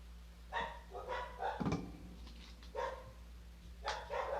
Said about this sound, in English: now the dogs are barking downstairs